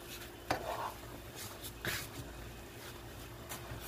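Thin Steak-umm slices sizzle quietly in a pan as they are stirred and turned, with a few scraping clanks from the utensil over the steady frying hiss.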